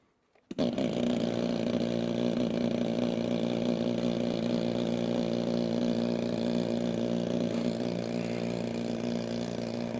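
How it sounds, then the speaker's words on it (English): After a brief silence, the Avartek Boxer Hybrid drone's combustion engine starts abruptly and runs at a steady, loud buzzing idle with a constant droning tone for the rest of the clip. "so we'll start the engine"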